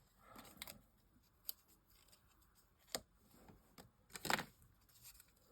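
Scissors cutting out a paper sentiment, with a few separate quiet snips spaced irregularly and one louder crunchy cut near the end, heard close up in a quiet room.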